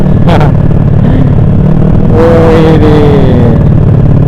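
A motorcycle fitted with a LeoVince aftermarket exhaust revs and rumbles close by on a road in Gunungkidul, rising in pitch as it accelerates, with a short exclamation from a rider.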